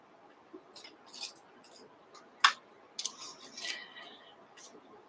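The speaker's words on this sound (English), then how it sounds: "And you can use your scissors to cut that with." Scissors snip through quilt fabric in a few short, crisp cuts with quiet pauses between them, close and faint.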